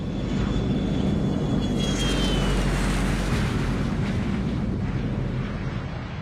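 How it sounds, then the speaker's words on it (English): Reconfigured Gulfstream 4 business jet flying as a hurricane hunter, a loud, continuous engine roar with a broad rushing hiss and a faint whine, steady throughout, with no voices. "The Gulfstream 4 is typically a business jet,"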